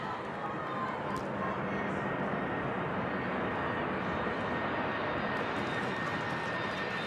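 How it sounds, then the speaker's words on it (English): A plane passes overhead on approach to Louisville Muhammad Ali International Airport during an ACC women's soccer match, a steady broadband engine roar filling the whole stretch with crowd and commentary noise mixed in. "a plane heading to the Louisville Muhammad Ali International Airport"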